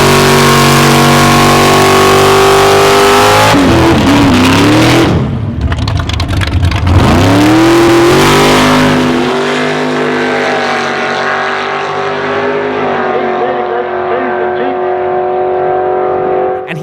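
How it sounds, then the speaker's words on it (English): A nitrous-fed Chevrolet Camaro on a quarter-mile drag pass, its loud engine screaming through gear changes with sharp pitch drops, then fading as the car pulls away down the strip. "beautiful nitrous-hungry Camaro is back to beat the 10-second pass he made earlier"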